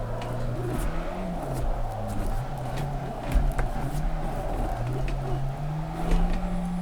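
A car drifting in a driving video game: a steady engine drone that rises and falls in pitch with revving and throttle shifts, plus scattered tire and impact clicks, at moderate level with no talk.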